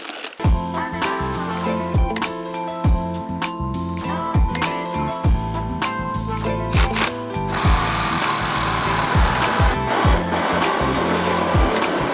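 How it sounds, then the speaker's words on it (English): Aluminum sheet being cut with a power tool in a garage during a boosted engine build on a K-swapped EK Civic, a loud, steady mechanical buzz with rapid repeated clicks, growing harsher and noisier partway through. "I'm gonna have to cut out another wider piece of aluminum."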